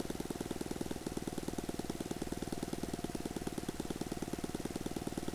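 An RC airplane's small engine during a crosswind landing, heard as a steady, fast, buzzing pulse that stays close and even while the plane rolls to a stop, with no voices.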